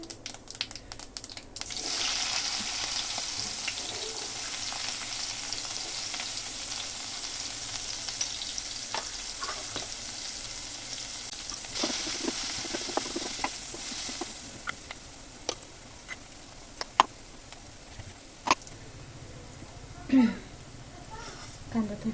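Chopped onion sizzles in a kadhai with a steady frying hiss, punctuated by occasional clinks and stirring scrapes; a person talks over the cooking, and the sizzle fades to quieter kitchen noises later.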